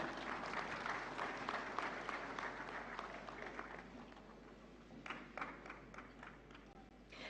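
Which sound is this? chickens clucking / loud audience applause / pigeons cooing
loud audience applause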